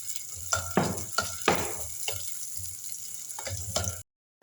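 Onions with salt frying in a clay mud pot, soft sizzling broken by several scraping stir strokes, close and fairly quiet, ending abruptly.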